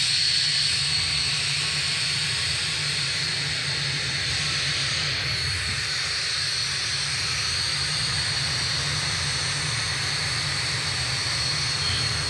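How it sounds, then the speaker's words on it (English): Boom XB-1 supersonic aircraft engines running on the ground in Mojave, California, a steady, loud, continuous roar and whine with no change throughout. "The engines are going to be shutting down on XB-1 for the final time"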